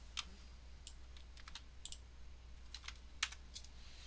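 Fingers tap on a computer keyboard in a quiet room, with sparse, uneven clicks and a few sharper keystrokes over a faint low hum.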